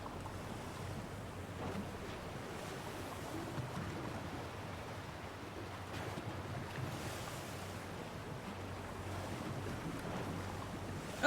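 Distant waterfall in the video game Tell Me Why, a continuous, soft broadband rush of water with a low rumble, steady and even throughout with no one speaking.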